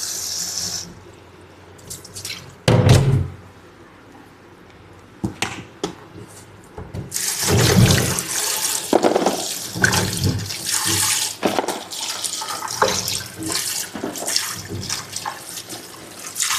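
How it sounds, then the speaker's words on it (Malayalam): Running water from a kitchen tap rinses green chilies, splashing and gurgling irregularly with louder bursts and clattering handling as the chilies are shaken under the stream. "കുറച്ച് നമ്മൾ ലിക്വിഡിനെ കൊണ്ട് നല്ലോണം കഴുകണം."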